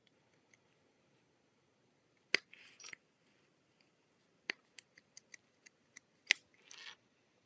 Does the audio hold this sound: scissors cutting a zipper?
yes